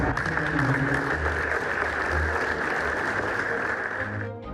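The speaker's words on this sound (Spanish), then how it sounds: "les pedí un aplauso también" A studio audience at a news broadcast gives a tribute round of applause, a continuous and fairly loud clapping that tapers off at the end, with a low hum underneath.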